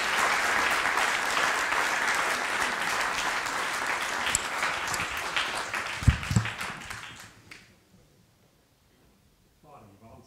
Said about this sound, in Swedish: Hörrni, ge en applåd till Martin,